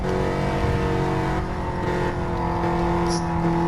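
A 2013 Dodge Viper GTS drives on a track with a steady, loud engine drone and strong harmonic whine that holds throughout, with slight shifts in pitch and a brief faint tire chirp near the end.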